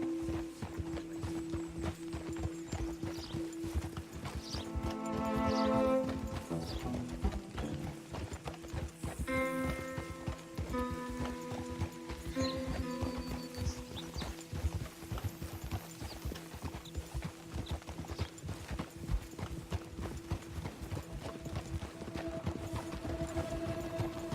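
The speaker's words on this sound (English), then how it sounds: "Will you get a hold of that horse?" Horse hooves clop steadily in Red Dead Redemption 2 as the horse moves along, a rapid rhythmic clip-clop close and continuous for over twenty seconds, with brief whinnying, creaking and a musical score underneath.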